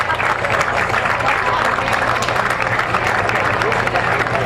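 Sustained crowd applause during a Battle of Plattsburgh parade, a standing ovation from many spectators, steady and dense across the whole moment, loud and close with a low background hum.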